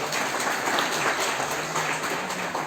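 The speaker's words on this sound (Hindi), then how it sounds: "इसके लिए जोरदार तालियां" Steady applause from an audience at a ceremony honoring the Indian tricolour flag, a dense, even wash of clapping held throughout at moderate loudness.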